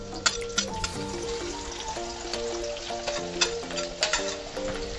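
Garlic and onion going into hot oil with mustard seeds, cumin and bay leaf, giving a close crackling sizzle with small pops and scraping stir noises, steady and moderately loud; faint music plays underneath.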